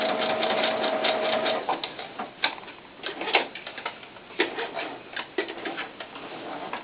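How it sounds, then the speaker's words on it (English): A sewing machine stitches knit leotard fabric in a steady mechanical whir, running continuously before breaking into short uneven bursts as the stitching stops and restarts. "I sew part of it, and then I come back and sew the other way."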